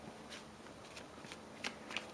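A card deck is riffled and shuffled by hand during a Sentinels of the Multiverse board game, a quick flurry of crisp, papery flicks and snaps heard up close with no talking.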